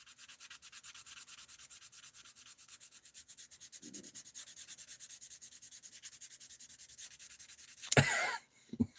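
Steady, rhythmic rasping of sandpaper rubbing back and forth across a surface, close and continuous, ending in a brief louder scrape and knock.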